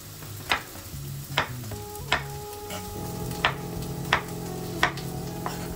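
Vegetables sweat in a pan for a vegetable tajine with a soft continuous sizzle, broken by about seven sharp stirring or utensil knocks at a steady pace. A low tonal hum runs underneath and no one speaks.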